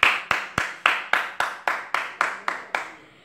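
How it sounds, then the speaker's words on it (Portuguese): About a dozen sharp, evenly spaced hand claps ring out close and loud, slowing slightly and fading toward the end, with no voices. "Vamos dar outra salva de palmas para a Senhora do Livramento."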